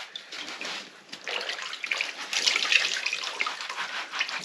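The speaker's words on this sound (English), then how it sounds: "I'm just going to scrub this off of here and rinse it off." A pan being scrubbed with a sponge and rinsed under running water, a steady close wash of splashing and scrubbing that swells midway, with no talk.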